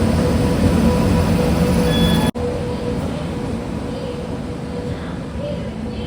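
Sampark Kranti superfast express hauled by a WAP-7 electric locomotive, a loud steady rumble of train travel heard from on board, continuous with a brief sharp dropout partway through.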